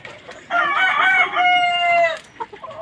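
Gamecock rooster crowing loudly and close in a coop, one long harsh harmonic cock-a-doodle-doo followed by a few short clucks from the chickens.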